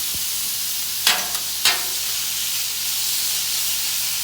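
Chicken cooking for chicken fried rice in a hot pan, a steady bright sizzle and hiss with two sharp stirring scrapes near the start, close and alone without talk.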